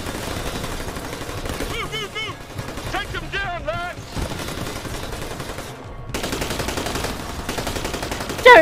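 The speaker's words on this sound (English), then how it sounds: "Halt! Halt! Covering fire!" Rapid bursts of covering gunfire in a first-person shooter game ring out amid music and voice chatter, with brief quieter gaps between volleys.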